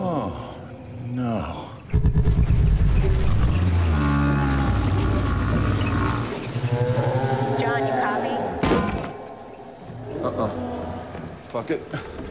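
A cow moos in a few drawn-out, lowing calls that stand out loudly over the chatter of several people talking and reacting around it.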